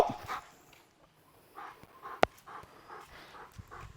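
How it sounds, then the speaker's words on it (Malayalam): A dog gives soft whimpers and short panting breaths at close range, with one sharp louder yelp partway through, after being made to submit during handling. "ഇപ്പോൾ ഡോഗ് എൻ്റെ മുമ്പിൽ സബ്മിസീവായി"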